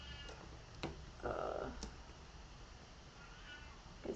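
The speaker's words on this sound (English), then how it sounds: "guys hear my cat?" A quiet, drawn-out meow from a cat sounds once in a hushed room, followed by faint clicks and low background noise.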